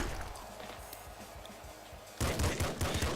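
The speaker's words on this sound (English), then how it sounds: "Laser pistol, like that." Laser pistol fire in the game Nuclear Throne, a burst of loud, rapid zapping shots that starts suddenly near the end over a busy game soundscape.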